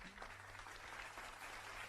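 Audience applause at an international Muslim-friendly tourism conference, a steady wash of clapping from a seated crowd heard at a distance, fairly faint and continuous, with no talk over it.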